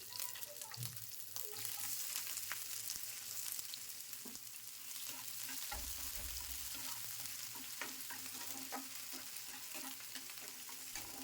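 Chopped garlic, chilli and onion fry in leftover fish-frying oil with a faint, continuous sizzle. Light stirring taps and scrapes recur throughout, with a brief low thump partway through.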